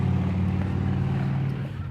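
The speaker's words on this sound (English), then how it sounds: "I guess there was some emergency vehicles coming through a few minutes ago" A steady low rumble of passing road traffic, including emergency vehicles, fills the background, loud and continuous, with engine drone dominating throughout.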